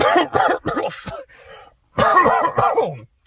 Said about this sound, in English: It's just the cough is on and on, off and on